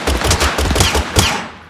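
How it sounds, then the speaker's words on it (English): Gunfire bullets strike a wooden shield in Totally Accurate Battle Simulator, a rapid series of sharp, close hits in a choppy burst that fades away at the end. "all those bullets went to that wooden shield"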